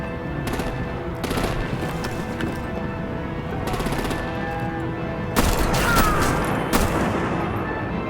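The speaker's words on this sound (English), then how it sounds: "Break out the artillery and disable their vehicles!" Video game battle with artillery and gunfire aimed at enemy vehicles: sustained rapid machine-gun bursts and volleys, loud and close, with a heavier barrage near the end.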